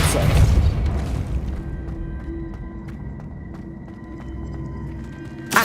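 A Depulso spell is cast in the Hogwarts Legacy video game, a loud booming whoosh at the start fading into a rumbling game ambience with faint thuds.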